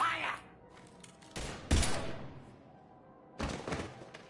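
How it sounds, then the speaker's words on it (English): Gunfire in the video game Mass Effect 3: a few heavy, booming bursts of shots with thudding impacts, separated by short quieter gaps. "Now open fire!"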